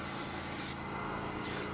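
Spray gun laying a base coat of paint onto a 2009 Harley-Davidson FXSTC Softail part at home, a loud close hiss in two bursts with a brief quieter gap between them.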